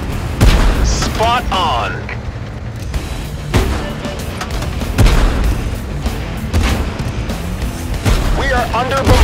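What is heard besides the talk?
artillery bombardment explosions in a video game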